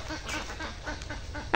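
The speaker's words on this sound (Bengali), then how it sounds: "কেন হাঁসগুলি তুমি প্যাক প্যাক করো?" Ducks outdoors in a rural waterside setting give repeated soft quacks at moderate distance, ending in a sudden loud burst of noise.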